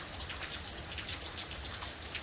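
Rain patters steadily onto a surface in a continuous, fairly quiet hiss with scattered individual drops, and no voices.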